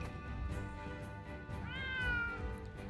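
A cat meowing in the video game Triangle Strategy, one clear drawn-out meow rising then falling, heard over a background of soft music with light thumps and no talk.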